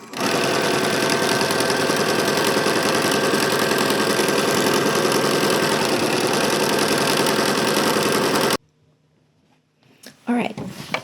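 A sewing machine stitches a long hem strip for a Simplicity 9780 garment, a loud, steady, close mechanical whir running unbroken for about eight seconds before stopping abruptly, followed by near silence and a brief rustle.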